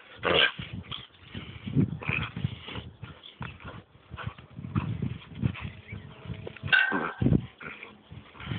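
A small dog whimpers and yips in uneven bursts, close and moderately loud, with soft handling noises between the cries and no clear talk.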